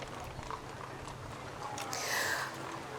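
Horses' hooves clip-clop faintly on pavement during a horse and carriage parade at a strawberry festival, soft distant steps under crowd ambience with a brief louder rush near the end.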